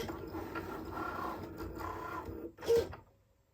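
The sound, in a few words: Cricut Maker cutting a heart-shaped fabric patch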